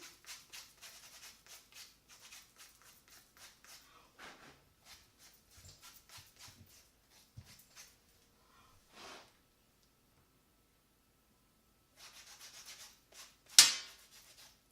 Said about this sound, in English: I'm going to file the back so the jagged edges are smooth before application.